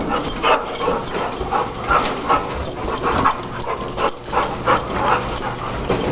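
A golden retriever puppy barks and whimpers in a run of short, close yips and whines, steady and fairly loud, with no talk over them.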